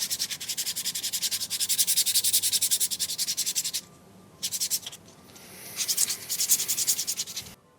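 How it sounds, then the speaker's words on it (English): Rhythmic back-and-forth strokes of hand sanding on wood, a fast scratchy rasp with short pauses between bursts, close and fairly quiet. "gave everything a good sanding up to 220 grit"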